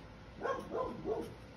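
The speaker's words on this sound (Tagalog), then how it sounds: "pasensya na, tumatahol yung aso namin" A household dog barks about three times in a quick, close sequence, mid-pitched woofs with nobody talking over them.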